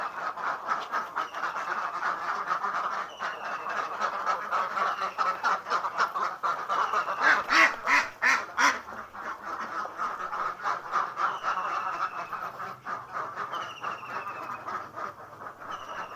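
Ducks quack repeatedly in a flock, a dense, nasal chorus of overlapping calls that rises and falls without pause, fairly close and loud.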